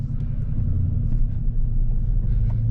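A 2022 Dodge Charger Scat Pack Widebody drives along with a steady, loud low engine rumble and road drone, continuous throughout without speech.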